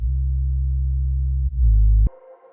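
A pure sine-wave sub-bass synth note from Ableton Live holds low and steady, dips briefly, swells louder, then cuts off abruptly as a brighter tone takes over.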